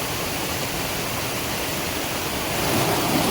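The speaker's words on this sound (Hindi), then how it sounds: "और इस रास्ते में ये देखिए कितना पानी बह के आ रहा है।" Heavy rain runoff rushing down a hillside footpath in the Uttarakhand mountains during a downpour, a loud continuous broadband roar of flowing water that swells slightly toward the end, with no voices.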